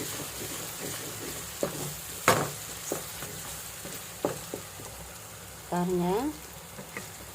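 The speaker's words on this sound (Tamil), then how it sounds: "வெங்காயம், தக்காளி நல்லா வதங்கிடுச்சு" Onions and tomatoes sauté in a pan with a faint, steady sizzle and a few sharp utensil knocks, and a brief spoken word partway through.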